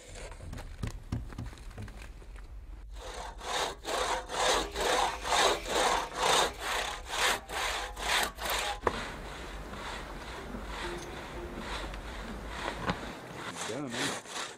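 Hand saw rasps through wood outdoors on a sheep hunt, a rhythmic series of about a dozen back-and-forth strokes, fairly close, with rougher scraping before and after and a few faint voices in the background.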